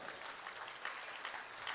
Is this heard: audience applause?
yes